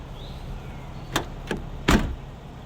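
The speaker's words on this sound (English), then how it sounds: "see, I didn't close the door again. It's so heavy." A heavy door on a 1996 Nissan Skyline R33 GTS25T swings and thuds shut: two light knocks, then one solid close, fairly near, with quiet ambient noise around it.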